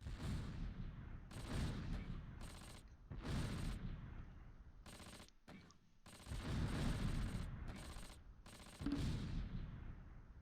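Artillery fire in the Close Combat video game, bursts of rumbling explosions and booming shots in several separated volleys with brief quiet gaps between them, moderately distant and low.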